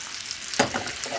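Egg-free cinnamon sugar toast sizzling in a frying pan as it is flipped, a steady close hiss with a sharp scrape and crackle burst at the turn.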